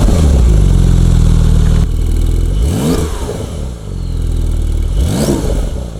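A Porsche 992 911 Turbo S with sport exhaust revs hard several times, with deep rising sweeps and crackling exhaust burbles and pops between the throttle blips, loud and close.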